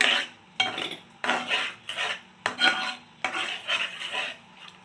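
Jaggery being stirred into a pot with a metal utensil, giving repeated scraping strokes against the pot in a steady rhythm, close and fairly loud, with no talking.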